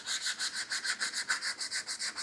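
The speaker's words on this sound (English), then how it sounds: "I've been slowly sanding away and blocking" Close-up hand sanding and block-sanding a wooden door edge: quick, even back-and-forth strokes in a steady rhythm, with no other sound.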